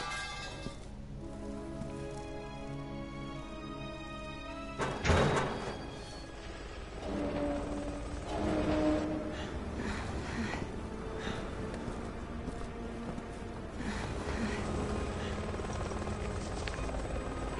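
Helicopter chasing the player in Resident Evil 6: a steady rotor drone runs throughout at moderate level, with a brief loud hit near five seconds and game sound effects layered over it.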